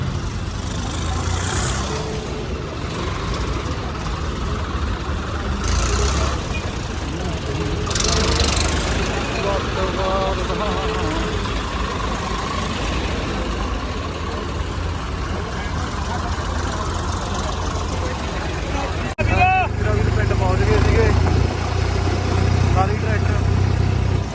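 Tractors idle during a farmers' tractor march at Bassi Pathana on 26 January 2025, a steady low engine rumble running beneath near, continuous talking, growing louder near the end.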